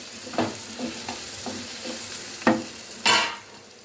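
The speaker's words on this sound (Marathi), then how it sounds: "चवीनुसार मीठ टाकलेलं आहे आणि आता उलटपालट करायचं आहे।" Coriander powder and salt being stirred through a pan of cooking food, a few scraping strokes of a spoon over a low sizzle, with a louder clatter near the end; no talking.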